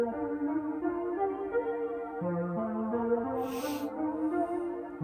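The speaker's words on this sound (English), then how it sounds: "This is the bass tump preset." A synth bass line steps through a sequence of sustained notes while keys play along above it, with a brief bright hiss partway through.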